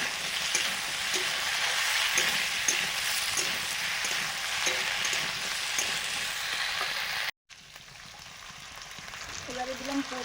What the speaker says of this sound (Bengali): আলুগুলো একটু ভাজার পরে ঝিঙেটা দিয়ে দিলাম।